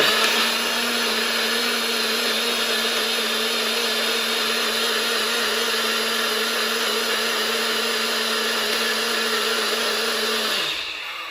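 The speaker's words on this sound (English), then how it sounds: "You can do this in a blender or a shaker bottle, just like that. Blend it 10 seconds." Countertop blender whirring through a chocolate mixed berry protein smoothie, a loud steady motor drone with a strong hum held for about ten seconds before spinning down at the end, no voices.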